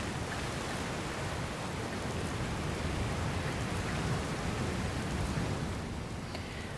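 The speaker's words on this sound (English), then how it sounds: "Looks like there's another storm rolling in." Heavy rain from a video game storm in Dragon Quest Builders 2 pours steadily in a constant dense hiss, loud and unbroken throughout.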